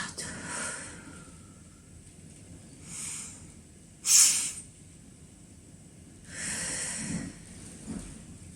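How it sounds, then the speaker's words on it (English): A deep, slow exhale during a calming breathing exercise: soft airy breaths come in a few gentle swells, with one sharper, louder puff near the middle, close and alone with no talk. "And breathe out."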